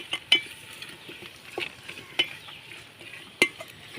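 Biryani masala sautéing in a pan gives a soft, constant sizzle, with a few sharp clicks and scrapes of a spoon stirring against the metal at irregular moments.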